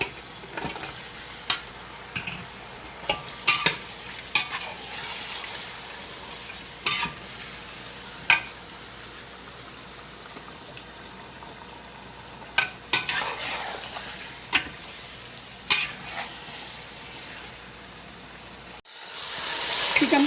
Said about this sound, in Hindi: चिकन को अच्छी तरह से हमने भून लिया।